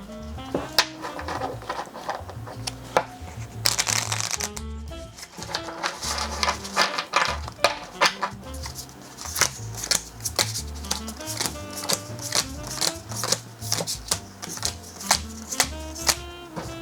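Plastic, all-black playing cards being shuffled and riffled repeatedly, a close, busy run of crisp flicking and snapping bursts that continues steadily throughout, with no talking.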